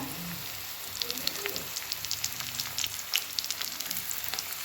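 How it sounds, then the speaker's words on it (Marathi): Cinnamon and bay leaf frying in oil, a fine crackling sizzle with sharp scattered pops over a low steady hiss, close but fairly quiet. "दालचिंग चांगलं तेलात भाजूया आता टाकूया बघा तेजपत्ता"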